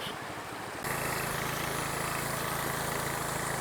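A small Harbor Freight gas engine driving a 1 1/2 inch Proline highbanker steps up abruptly from a quieter idle to a loud, steady, close-up drone after almost a second, holding a constant pitch to the end with no talk.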